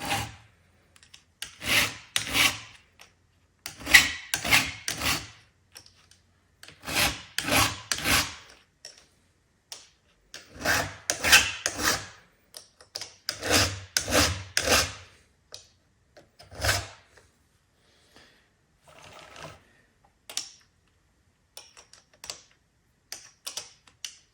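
Hand file sharpening the chain of a Husqvarna chainsaw, repeated rasping strokes in short bursts of several passes separated by pauses, close and clear, with no talk.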